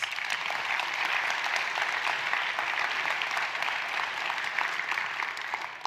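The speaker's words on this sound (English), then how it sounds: "can we give them a preemptive round of applause?" Audience at a school district Celebration of Excellence event gives a steady, dense round of applause throughout, loud and sustained with no speech over it.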